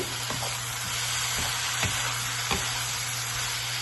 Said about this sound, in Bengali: এখন এটাকে ভালো করে মিক্স করে নেব